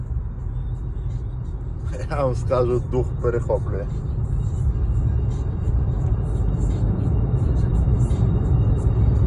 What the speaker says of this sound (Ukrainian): Ой, Мерседес, Мерседес.